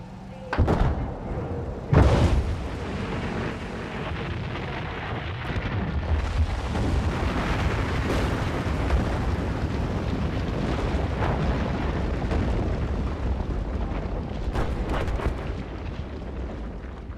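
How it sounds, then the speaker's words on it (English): In Battlefield 4, explosives bring down a dam: two heavy booms land close together, then a long, loud, rumbling roar of collapse and debris carries on without pause. "Missiles from helicopters, missiles from LAVs, rocket launchers, whatever you got that explodes will do damage to this dam"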